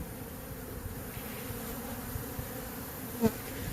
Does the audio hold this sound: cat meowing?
no